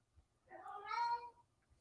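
A house cat lets out a single drawn-out meow close by, rising and falling over about a second in an otherwise quiet room.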